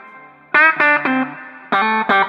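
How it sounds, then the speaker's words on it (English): Clean electric guitar through a Quilter Superblock UK amp in 1W pedal mode plays a few chiming chords and single notes, each ringing out with a soft reverb tail before the next. "And you can still hear the reverb."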